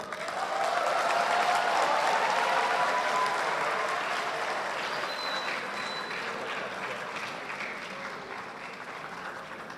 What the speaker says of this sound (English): let's give the big applause